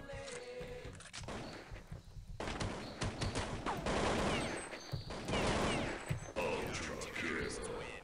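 Rapid gunfire bursts from Counter-Strike 1.6, including a golden pistol and assault rifle, crackle loudly in repeated fusillades with sharp impacts, while someone talks over the shooting.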